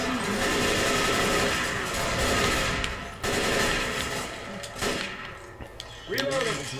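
Rapid, loud gunfire from the zombie shooter game Left 4 Dead 2 rattles almost nonstop, with sustained automatic bursts that thin into scattered shots near the end.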